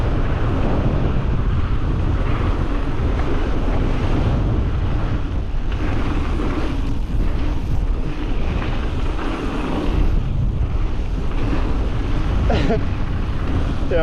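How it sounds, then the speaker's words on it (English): Strong wind roars steadily across the microphone at outdoor MTB jumps on a dry day, a constant close buffeting rush that fills the whole stretch. "That wind is murder."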